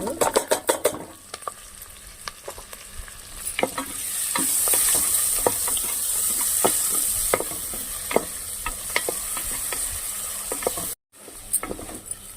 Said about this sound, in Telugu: ఇదిగోండి ఇప్పుడు ఆనియన్స్ ఫ్రై అయిపోయింది కదండి.